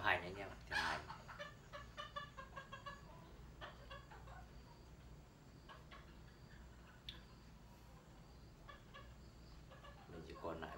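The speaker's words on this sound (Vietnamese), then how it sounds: "Anh em có nhìn thấy mấy con gà đằng sau mình không?" Chickens cluck in bursts just behind the speaker, close and moderately loud over a steady background hum, with faint voices at times.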